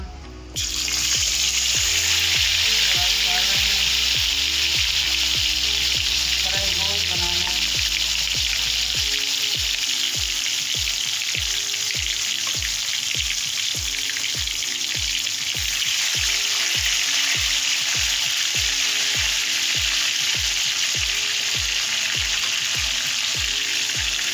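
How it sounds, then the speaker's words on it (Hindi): Masala-marinated meat frying on low heat, a loud, steady crackling sizzle close up, with rhythmic low thumps of stirring through much of the clip. "हल्की आंच से फ्राई करें।"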